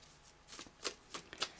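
Tarot cards being shuffled, heard as four quick papery riffling bursts, fairly close and crisp, with short pauses between them and no talk.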